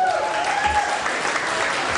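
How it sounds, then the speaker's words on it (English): An audience applauds at a nightclub fashion award ceremony, a dense burst of steady clapping filling the whole moment. "Big round of applause for Hannah McDonald."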